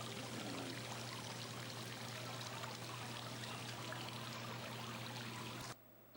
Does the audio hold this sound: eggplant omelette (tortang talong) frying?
no